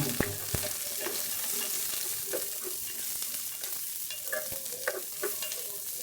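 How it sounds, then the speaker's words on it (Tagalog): Chopped onions added to browned garlic sizzle steadily in a hot pan, with occasional spatula scrapes and taps over the continuous frying hiss. "Gisahin lang natin yung sibuyas hanggang sa medyo mag-translucent"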